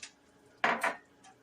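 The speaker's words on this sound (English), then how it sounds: "I'm going to put the butter in here." Butter dropped into a cooking pot for Cajun shrimp and rice, two quick close clunks of metal and utensil in succession, then quiet.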